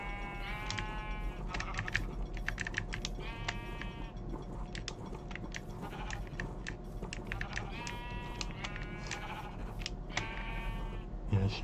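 Repeated sheep bleats from Minecraft, several harmonic calls spread across the span over a steady hum of game ambience and music, with faint clicking like keyboard typing.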